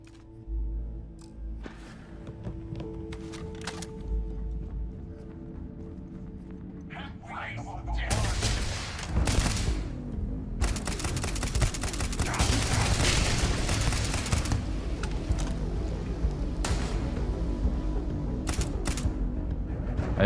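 Gunfire in the video game Starfield, bursts of rapid shots and impacts that start partway through and continue densely, moderately loud over game ambience.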